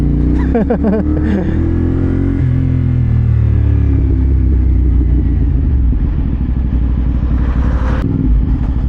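A CFMOTO 450SR motorcycle with a quiet exhaust rides along, its engine a loud, continuous low rumble with a brief rising rev at the start and steady road noise.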